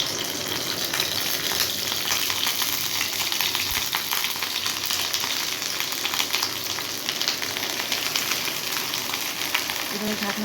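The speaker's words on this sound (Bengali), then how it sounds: "এবারে প্যানটা গরম হয়ে গেলে আমি অল্প একটু সর্ষের তেল দিয়ে এর মধ্যে পাতুরিগুলো ভেজে নেব।" Prawn paturi wrapped in gourd leaves fries in a little mustard oil in a hot pan. It makes a loud, steady sizzle that runs unbroken the whole time, with no voices over it.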